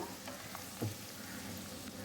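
Finely chopped ginger sautéing in a pan for tuna pickle makes a faint, steady sizzle with a soft stirring tap partway through, and no one speaks.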